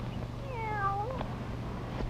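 A black cat gives a single drawn-out meow with a gliding, falling pitch, fairly close over a low steady hum, followed by faint clicks.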